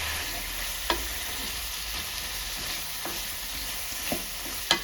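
Continuous sizzling of bottle gourd pieces cooking in a yogurt-based curry in a pan, with occasional soft clicks of a spoon stirring, fairly quiet and close.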